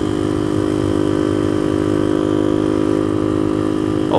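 A Suzuki DR200 dual-sport motorcycle rides at around 40 mph, its single-cylinder engine holding a loud, steady buzzing drone close to the rider, with wind noise and no talking.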